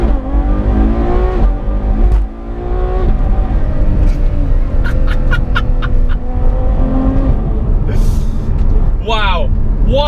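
A Ferrari F12 with shortened gear ratios revs hard and climbs through quick, seamless upshifts, its loud engine note rising and dropping in tone at each change, close and dominant throughout.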